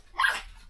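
Dogs chewing a tasty bone give a short, throaty growl that swells and fades within a moment, close by and fairly quiet, with no talking over it.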